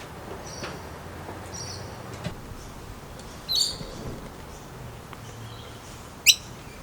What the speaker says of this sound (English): the birds have started coming back intermittently to pick up the little bits of bread that I put down on the floor